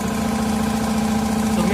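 A compressor runs for a concrete permeability test, giving a steady mid-pitched mechanical hum with a constant drone that holds evenly from start to finish.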